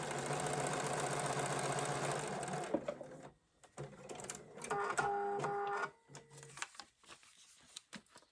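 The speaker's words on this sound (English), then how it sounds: "And we'll go ahead and sew it." A sewing machine stitches quilt block fabric in a steady whirring run that stops, then starts again for a shorter burst before it stops and the room goes quiet except for faint handling.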